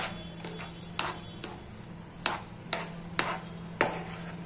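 Modak dough is stirred and worked with ghee in a pot, heard as a series of quiet, sharp scraping clicks of the utensil at irregular intervals over a low steady hum, close and faint.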